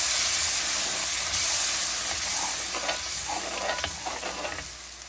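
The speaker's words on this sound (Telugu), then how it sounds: "శుభ్రంగా ఒకసారి కలుపుకుందాం" Tomato puree and onion masala for bhindi masala fry in a pan, giving a loud, steady sizzle and hiss with soft stirring scrapes that ease off slightly toward the end.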